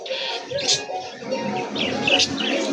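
Busy pigeons and birds at a pigeon market chirp and call repeatedly at close range, bright overlapping tweets mixed with low murmuring coos and some faint background voices.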